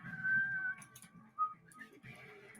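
A person whistles the Indiana Jones theme, a short, thin, wavering melody of a few sustained notes and a quick rising slide, close but fairly quiet, with no talking.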